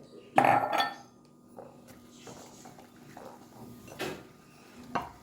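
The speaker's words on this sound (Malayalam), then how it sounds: "ഇത് നന്നായി ഇളക്കി ചേർക്കുക." A breakfast mixture with salt and green chilli stirred in a pot: a loud metallic clatter at first, then faint scraping and a few sharp clinks of the utensil against the pot in a quiet kitchen.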